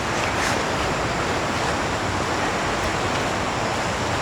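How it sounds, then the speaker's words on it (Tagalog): The falls at Bunga Falls rush as a loud, constant broadband roar of water, steady and unbroken throughout with no voices. "And malakas na yung tunog ng falls."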